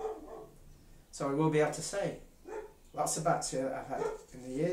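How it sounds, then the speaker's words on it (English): A dog barks a few times in the background, faint and intermittent beneath a man's continuous speech. "That's a dog, by the way, sorry about that."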